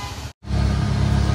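Cars roll along a wet Mumbai road in heavy rain, a steady close tyre hiss and engine rumble, broken by a brief moment of silence before the noise resumes.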